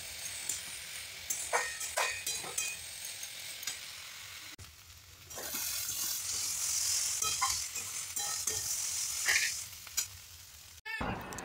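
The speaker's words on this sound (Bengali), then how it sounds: "এইবার ভালো করে নাড়াচাড়া করে ভাজা ভাজা করে নিতে হবে।" Vegetables seasoned with salt and turmeric sizzle in a pan as they are stirred, with a steady frying hiss broken by spatula scrapes and clacks, ending in a sudden sharp knock.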